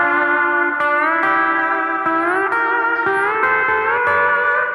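An electric slide guitar plays minor third intervals, gliding between pitches with a smooth, sustained tone and light echo, several repeated phrases.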